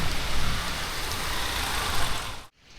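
Steady broadband hiss of heavy rain falling at night in Kandy, loud and continuous for most of the clip before cutting off abruptly near the end, with no voices.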